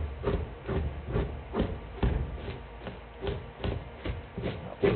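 Knife flipped to its pushing side scraping flesh off a raccoon hide: rhythmic wet rasping strokes, roughly two per second, close and repetitive, with no voices.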